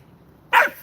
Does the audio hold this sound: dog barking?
yes